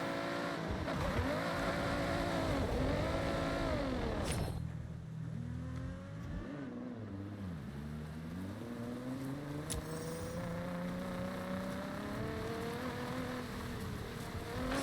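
Engine of a car in Forza Horizon, played on a Logitech G29 racing wheel, revving loudly with rising and falling pitch as it accelerates and shifts, then settling into a steadier drone after a sudden drop.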